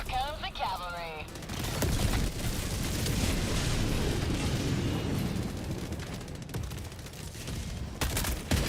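Helldivers 2 air support strike: a continuous heavy barrage of explosions and gunfire rumbles for several seconds, loud and dense, with short game voice lines around it.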